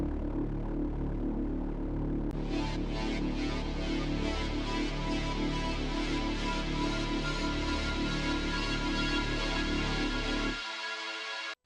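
A mean Reese bass synth from the Anna 2 preset, heard alone: a loud, dense, detuned low drone that swells in brightness with a pulsing, rhythmic upper shimmer before dropping to a thinner tail at the end.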